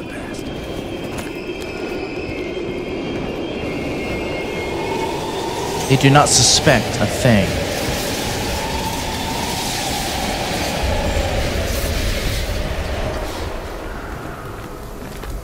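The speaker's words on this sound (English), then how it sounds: "Use a train to slip past." A train rumbles past with a steady roar and rolling rail clatter in Call of Duty: Black Ops Cold War, with sharp metallic clanks and squeals midway, while someone speaks over it.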